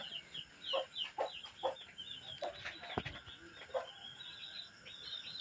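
Chickens cluck in scattered bursts with a rooster's calls among them, fairly faint and outdoors, with a dog and other birds faintly in the background.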